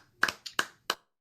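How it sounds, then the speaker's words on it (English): A few sparse hand claps at a university psychology student presentation, about five sharp, separate claps spread unevenly over a second in an otherwise quiet room. "well-deserved applause."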